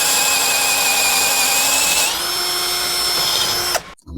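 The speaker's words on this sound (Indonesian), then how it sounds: "Oke, turun ke speed 1." A DongCheng cordless impact drill running at speed 1 drills into meranti wood with a continuous, close, high motor whine. The tone shifts slightly partway through, then the drill stops suddenly just before the end.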